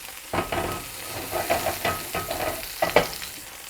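A pot roast sears in a hot pan, giving a steady close sizzle broken by several scraping, stirring bursts of utensil against pan, with no talking.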